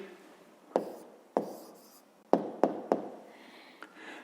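A pen writes an answer by hand on paper during a fifth-grade math exercise, giving quiet scratching broken by several sharp taps as strokes begin, with no voices.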